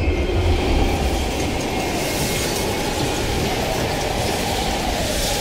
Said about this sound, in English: We can use a train to slip past.